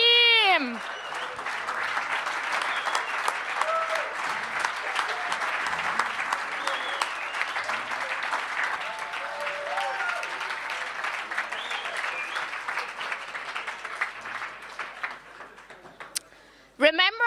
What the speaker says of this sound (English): give yourself a big round of applause to every team